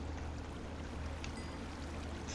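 A steady, even rush of flowing water from a stream in the Minecraft video game fills the whole stretch as a constant hiss with no talking.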